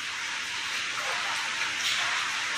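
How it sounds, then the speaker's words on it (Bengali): A heavy rain shower pours down as a dense, steady hiss, quiet and unbroken throughout, with no clear thunder or voices. "কি সাংঘাতিক বৃষ্টি হচ্ছে আর কি জোরে জোরে বজ্রপাত হচ্ছে"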